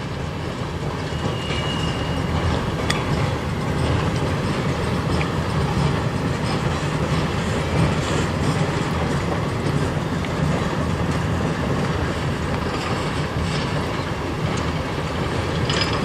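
A CN freight train with locomotives rolls past continuously through Sarnia in a snowstorm, a loud, close rumble with steady clickety-clack of wheels and faint metallic squeals, and no talk.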